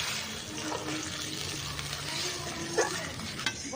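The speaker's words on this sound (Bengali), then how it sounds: "জলের মধ্যে সুজিটা দেবো আর এইভাবে আমি নেড়ে নেবো" Semolina being stirred into water in a pot, a soft continuous swishing and scraping with faint bubbling, close and steady, no voices.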